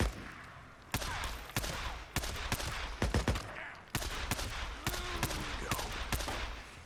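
Handgun shots in the zombie survival game Days Gone crack out one by one at a steady, quick pace, each report sharp and loud against a quieter game background.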